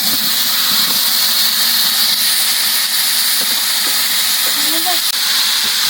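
Tomatoes dropped into a pan of onions that were just sautéed for a chicken biryani, a steady broad hiss of cooking running throughout at moderate level with faint clinks.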